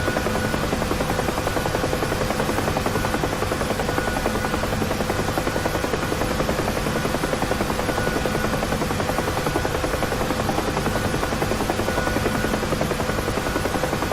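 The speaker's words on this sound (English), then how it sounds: "the sound of this helicopter's rotors is in itself music to my ears" UH-1 Huey helicopter in the DCS flight simulator cruising at about 100 knots, its rotors throbbing in a continuous, loud, even beat with a steady turbine whine underneath and no talk.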